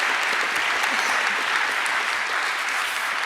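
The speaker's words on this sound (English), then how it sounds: "Big round of applause." A conference audience at a plenary session applauds a medal presentation with steady, dense clapping throughout, with no voices over it.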